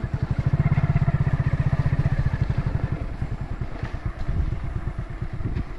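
A motorcycle rides along a rough village road, its engine chugging in a fast, steady pulsing rhythm close by, with rattling and clatter as the bike moves over the uneven surface.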